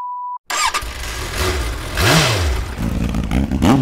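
A rented scooter's engine is started close by: after a brief tone and silence it catches, then idles and revs in rising and falling surges.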